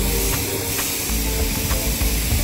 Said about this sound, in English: let me give it a quick spray rinse